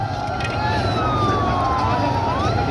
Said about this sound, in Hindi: ये इस एम्बुलेंस में अर्शद शरीफ साहब का जस्दे हाकी कब्रिस्तान की तरफ लेके जाया जा रहा है।